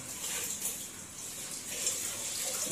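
Water gushes and pours in a continuous rushing stream while urad lentils are ground, moderately loud and close, with no voices.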